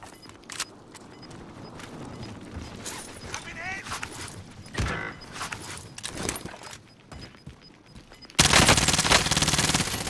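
Gunfire in the Modern Warfare video game on Rebirth Island: bursts of automatic shots and single cracks scattered through the clip, with a loud sustained burst at the end, mixed with game voices and player talk.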